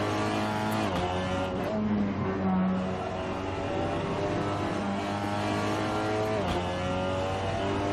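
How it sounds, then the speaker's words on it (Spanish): A Seat Leon TCR racing car in Assetto Corsa at Okayama, its engine revving hard and straining through gear changes with a steady loud drone, occasional tire squeal and another car nearby. "Estoy haciendo sufrir demasiado el motor."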